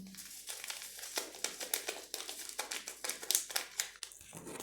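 Crisp crinkling and rustling of a small vanilla sugar packet being handled and torn open, a quick run of close, crackly bursts.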